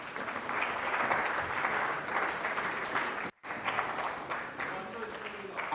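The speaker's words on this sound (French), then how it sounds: "applaudissez d'abord pour vous-même" A university closing-ceremony audience at UNIKIN applauds steadily, a dense wash of clapping that dips for a moment, then carries on with a few voices underneath.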